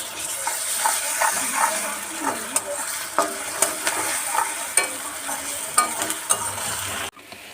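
Onion and garlic paste frying in a pan, a loud continuous sizzle broken by regular scraping stir strokes, close up and without talk, cutting off abruptly at the end.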